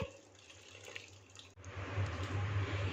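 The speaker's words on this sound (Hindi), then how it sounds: "एक पैन में इस तरह पानी भर लेंगे।" Tap water running into a pan, a steady splashing stream close by that grows fuller after a brief break.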